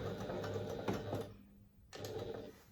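A sewing machine runs a top stitch along a fabric edge, a fast mechanical whirring rattle that pauses briefly and starts again, close and moderately quiet.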